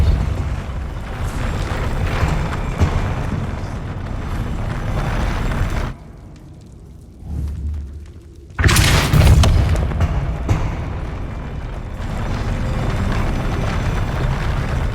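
A Depulso force spell is cast in Hogwarts Legacy, with a loud booming blast bursting out after a brief lull amid dense, continuous game rumble and effects.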